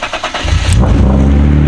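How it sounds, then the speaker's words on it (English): A BMW E30's engine cranks with a few quick starter pulses, then catches and settles into a loud, rumbling idle close to the microphone. "Start your engines."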